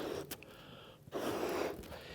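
A person exhales steadily to inflate a rubber party balloon, with a sharp intake of breath followed by long, breathy blowing close to the microphone.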